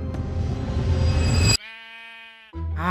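A sheep in the game Minecraft lets out a single drawn-out, wavering bleat, loud and close, breaking through steady background noise that stops for it and then returns.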